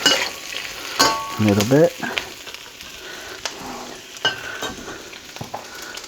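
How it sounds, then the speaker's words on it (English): Celery cooking in a hot pan, a soft sizzle under clinks and scrapes of a utensil, with a person talking briefly. "Add the celery. And let that cook"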